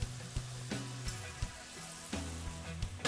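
Garlic sizzling in a hot pan where scallops and vegetables were seared, a steady frying hiss broken by several sharp clicks and scrapes, close and with no talking.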